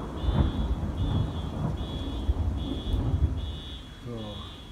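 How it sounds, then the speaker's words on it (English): Thunder during a rainstorm, heard as a low, steady rumbling wash with faint rain hiss throughout, rolling on continuously at a moderate distance. "The thunder."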